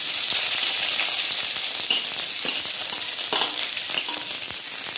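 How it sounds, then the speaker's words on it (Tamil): Shallots and garlic cloves frying in hot oil in a pan, a dense, loud, continuous sizzle with faint stirring scrapes, close up and with no talk. "இப்போ நல்லா வதக்கிக்கலாம்"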